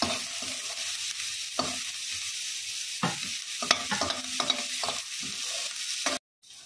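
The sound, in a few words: food frying and being stirred in a pan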